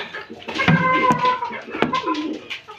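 Pigeons coo close by in soft, rolling, repeated calls, with a couple of sharp knocks or flaps mixed in.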